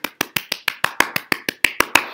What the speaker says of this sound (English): I'm the only one clapping.